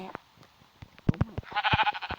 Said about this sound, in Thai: แกะมีตัวเดียวหรือเนี่ย